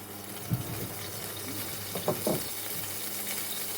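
Sliced vegetables fry in oil in a pan for a Polish vegetable stir fry, giving a steady, quiet sizzle with a few louder crackles and stirring bursts partway through.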